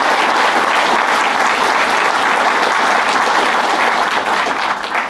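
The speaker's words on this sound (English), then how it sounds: "I think we should give them a good round of applause for that" A lecture audience gives sustained, loud applause for speakers on artificial intelligence and medical physics, a thick even roar of many clapping hands lasting about five seconds before beginning to thin.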